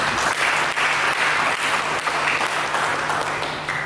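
A church congregation applauds during a sermon, a dense, steady wash of clapping filling the room for the whole few seconds.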